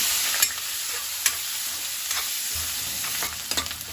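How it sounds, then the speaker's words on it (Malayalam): Sliced onion sautés in hot oil with cumin seeds and asafoetida for a ladies finger masala: a steady, close frying hiss punctuated by a few sharp spatula taps and stirring clicks. "ഉള്ളി വഴറ്റാനായിട്ട് കുറച്ച് ഓയിലും കൂടി ഒഴിച്ചു കൊടുക്കാം"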